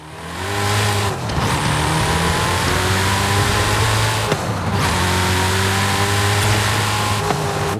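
An American hyper or concept car from the American Automotive pack in Forza Horizon 5 revs hard and accelerates, its loud engine climbing through long gears with two brief dips at the shifts, up close with no talking.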